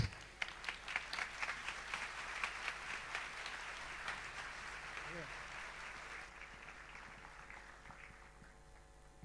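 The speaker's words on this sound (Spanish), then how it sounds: "Recibimos con un fuerte aplauso a Gustavo Vélez." Conference audience applause at a Smart City Expo in Santiago del Estero, soft and somewhat distant, with a scattered burst of claps early that thins into a fading wash, while a voice speaks over it.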